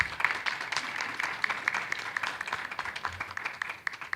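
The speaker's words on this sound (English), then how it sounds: "How about another round of applause for all of the candidates here tonight?" A modest audience at a candidate forum claps for several seconds, individual hand claps distinct and uneven as the applause gradually thins out, moderately quiet in a room.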